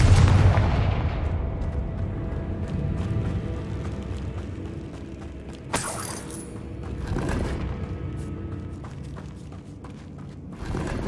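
Confringo fire spell explosions in the game Hogwarts Legacy: a loud booming burst up front, then a couple of sharp blasts later on over a rumbling, mechanical game background.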